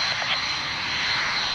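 Jaguar jet aircraft at the 1993 Coningsby airshow, a short burst of loud, steady jet roar with a strong hissing edge, heard alone without voices.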